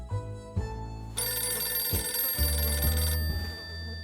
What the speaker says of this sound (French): Téléphone. Ring.